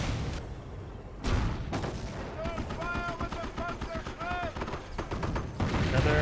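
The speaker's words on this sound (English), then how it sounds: "Fire with the Panzer Schreck!" In Company of Heroes, a German Panzerschreck rocket launcher fires amid gunfire and heavy booms, with loud blasts and rattling shots under overlapping voices of game callouts and commentary.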